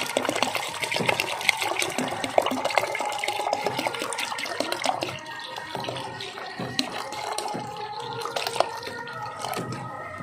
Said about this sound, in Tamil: குழம்புக்கு தேவையான தண்ணி ஊற்றிக்கலாம்